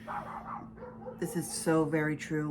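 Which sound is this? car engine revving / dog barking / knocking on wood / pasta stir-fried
dog barking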